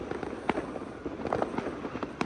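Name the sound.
fireworks bursting for Diwali in Malaysia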